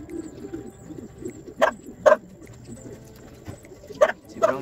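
A racing pigeon coos softly at its loft after returning from a derby lap. Several short, fairly close calls come in pairs over a faint background murmur.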